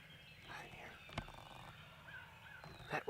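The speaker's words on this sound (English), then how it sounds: "This bird's still gobbling." A wild Tennessee longbeard turkey gobbles from about 200 yards away, faint and distant amid quiet outdoor ambience with soft nearby whispering.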